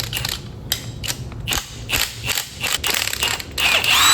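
Impact wrench hammering on a stubborn bolt during engine work on a 1997 Mustang Cobra, delivering repeated sharp rattling bursts in short spurts with brief pauses, close and loud, without talk.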